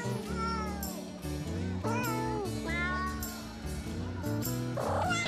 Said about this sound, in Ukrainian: взяти ось це маленьке кошенятко